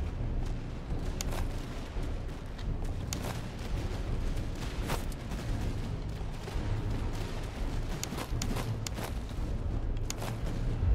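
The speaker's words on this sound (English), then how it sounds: "to allow my cannons to use canister shot" Dense, rumbling video game battle noise with repeated booming cannon blasts firing canister shot and crackling volleys over a constant low roar.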